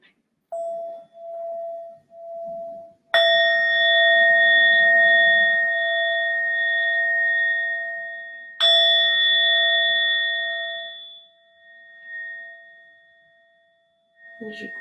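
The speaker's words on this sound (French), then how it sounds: "on va écouter le son du gong 3 fois tranquillement" Meditation gong struck twice, each ringing strike sustaining a long, slowly fading shimmering tone; faint soft talk comes before the first strike and again at the end.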